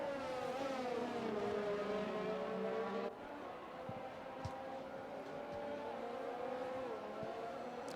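Race car engines from a racing video game in a European series race in Spain, a steady loud drone of revving with shifting pitch sweeps, cutting sharply to a quieter engine hum with faint clicks partway through.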